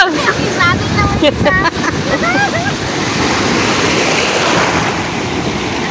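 Ocean waves at a rocky beach, a loud continuous surf rush with wind buffeting the microphone, and people talking and calling out briefly early on.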